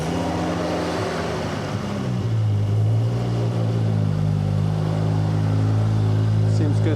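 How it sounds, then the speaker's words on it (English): A modified car engine cranks and catches, then settles into a steady, loud idle with a deep rumble and harmonic drone, heard up close. "We're gonna get the car turned on and hopefully we'll be good to go."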